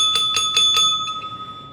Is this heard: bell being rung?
yes